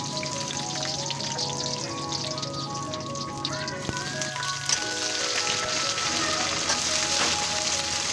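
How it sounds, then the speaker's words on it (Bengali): Onions, garlic and whole spices fry in hot oil in a wok for a Bangladeshi-style boal fish and bitter gourd curry, giving a steady, close sizzle and crackle throughout with no talking. "কড়াইতে তেল ঢেলে দিয়ে পেঁয়াজ, রসুন এবং গরম মশলা দিয়ে দিল। এখন একটু ভালোভাবে নাড়াচাড়া করে নিচ্ছে।"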